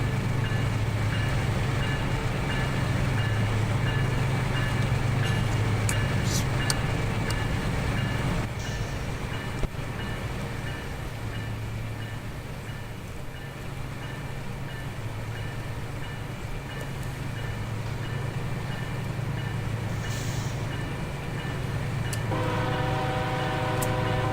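A freight train in the Open Rails simulator throttles up heading out of Field on the CP Laggan Subdivision, a loud steady diesel locomotive rumble with a low engine drone that holds throughout, with no talking.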